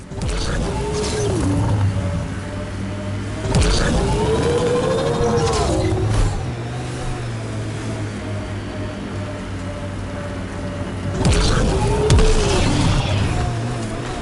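The Nomad vehicle in Mass Effect Andromeda roars through bursts of acceleration, engine pitch sweeping up and down over a low rumble, with three louder surges separated by steadier cruising.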